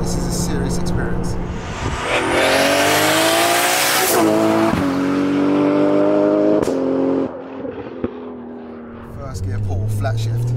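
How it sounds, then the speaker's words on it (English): Nissan R33 GTR with a sequential gearbox, rated at 955 bhp, accelerating hard in first gear and flat shifting. The engine roars loudly and climbs, with abrupt shift cuts and bangs before the note pulls up again. "First gear pull, flat shift."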